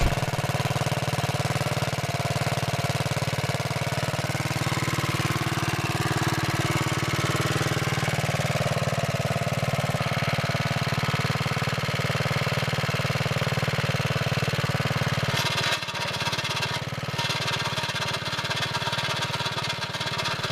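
A Wheel Horse Model 401 garden tractor engine runs loud and steady nearby with a rough drone and a rattling belt that barely changes throughout.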